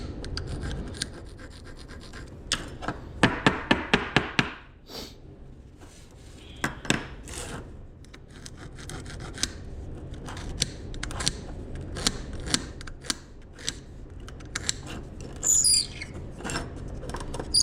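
A metal pick scrapes dirt from the front wheel and brakes of a 2016 Honda CRF230F dirt bike, producing short irregular scratches and clicks, a quick cluster early then sparser strokes, close and fairly quiet.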